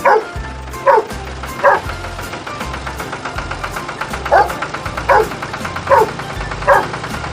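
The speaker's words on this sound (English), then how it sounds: "Dog." A farm dog barking in a steady rhythm of about eight short, sharp barks, close and clear over constant background music.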